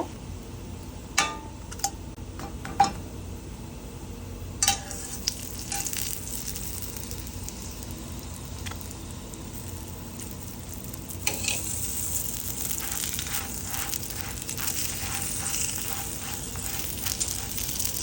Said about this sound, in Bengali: এই যে আরেকটা রুটি দিয়ে দিলাম এভাবে করে সবগুলো ভেজে নিব